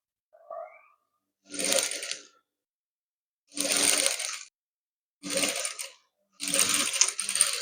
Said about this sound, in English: So let's begin the sewing.